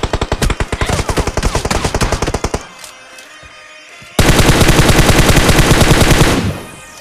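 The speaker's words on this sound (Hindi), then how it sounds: "और मुझे पड़ते हैं शॉट्स ऊपर से" Rapid bursts of automatic gunfire in a shooter video game crackle loudly and close, first a sustained rattling volley, a brief lull with scattered mechanical clicks, then a second heavy, continuous burst that cuts off abruptly.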